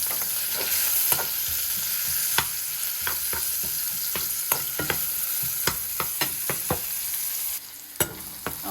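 Onion, green chili and a pinch of salt frying in a pan, with a steady background sizzle and frequent sharp scraping strokes of a spatula, up close and with no one speaking.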